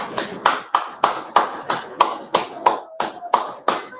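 A boy claps his hands in a steady series of about a dozen sharp, close claps, evenly spaced over a few seconds, with no talking.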